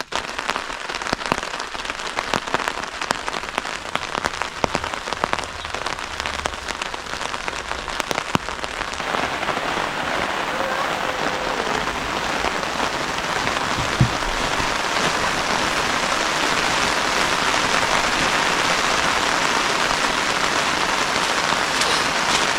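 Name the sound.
rain falling on campsite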